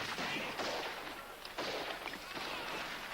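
Distant gunfire from a battle scene at Little Bighorn, heard as rumbling volleys and rolling bursts that recur every second or so over a noisy battlefield backdrop.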